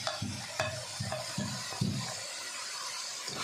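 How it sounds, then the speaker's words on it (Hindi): Stir-frying chicken with vegetables for chowmein in a pan: repeated scraping strokes of a spatula over a soft, steady sizzle, moderately close, with no talking. "चिकन हो गया, अब इसमें ये वेजिटेबल्स ऐड कर रहे हैं।"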